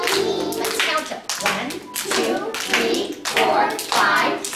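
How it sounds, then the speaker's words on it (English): Children clap their hands in rhythm during a preschool music lesson, steady claps at close range sounding over an adult singing and chanting a counting song. "Time for music, clap your hands."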